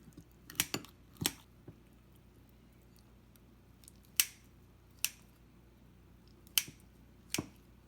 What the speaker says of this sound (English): I'm using a scissor to cut some hole.